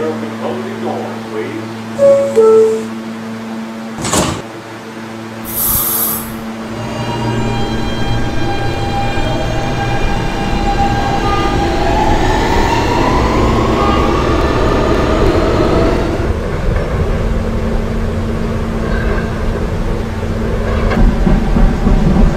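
A Roblox R160 subway train on the D line, from a video game, whines and rumbles as it starts off and gathers speed, with rising motor tones and a steady, loud mechanical drone after a few early clunks.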